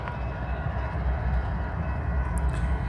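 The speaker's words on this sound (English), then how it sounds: "He sees the train moving back." BNSF freight train slowly moving back on the Spokane Subdivision, a deep continuous low rumble and rolling drone, close and steady without horn.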